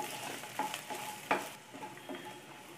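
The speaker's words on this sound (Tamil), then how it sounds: "நல்லெண்ணெயிலே இதையும் நல்லா வதக்கிக்கலாம்." Chillies and tamarind sauté in sesame oil for a pirandai pickle, a faint sizzle broken by a few scraping stirs, one sharper clink near the middle.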